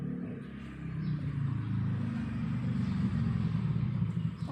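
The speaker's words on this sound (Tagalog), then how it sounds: "Naririnig ko yung motor." A motorcycle engine approaching, a steady low rumbling drone that holds and swells slightly as it draws nearer, with no talk over it.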